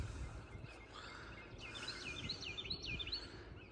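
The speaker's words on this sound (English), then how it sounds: "Birds are chirping." Birds chirp and trill outdoors on a calm morning near a high tunnel, a run of repeated, fairly faint warbling calls carried over steady low rumble and background noise.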